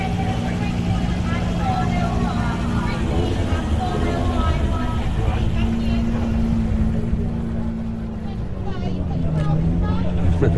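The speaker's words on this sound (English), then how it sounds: "So there's another mini race that we just saw going out, the 4x4 minis." 4x4 Mini race cars heading out onto a motorsport circuit, their engines a steady low drone blending with general trackside noise, with people talking nearby.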